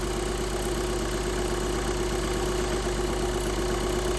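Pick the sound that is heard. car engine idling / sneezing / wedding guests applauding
car engine idling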